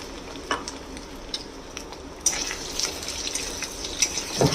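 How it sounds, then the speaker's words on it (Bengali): Pumpkin pieces with crushed garlic and a dried red chilli fry in hot oil, sizzling steadily while a spoon scrapes and stirs them around the pan, growing louder partway through. "এটাকে একটুখানি কুমড়োটাকে হালকা করে ভাজা করে নেব"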